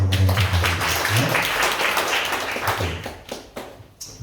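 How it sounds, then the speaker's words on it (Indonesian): A church congregation claps at a sermon, a loud and close burst of applause with some taps and thumps that gradually thins out and fades toward the end. "Berikan tepuk tangan yang paling meriah"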